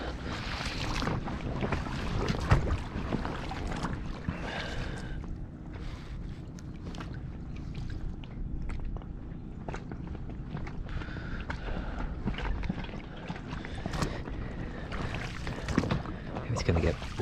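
A dinghy being rowed on the Kingsbridge Estuary near Southpool Creek, with steady water and oar noise under buffeting wind on the microphone, while a voice talks throughout.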